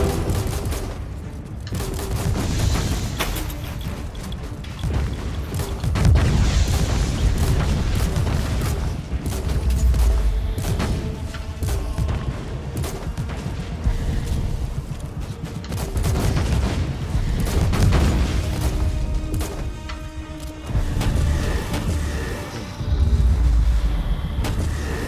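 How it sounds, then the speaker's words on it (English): Grenade launcher fire in Warhammer 40,000: Inquisitor, a dense run of booming explosions and rattling gunfire that keeps up without a break against a swarm of enemies, loud and close throughout. "I guess now might be a good time to use a grenade launcher"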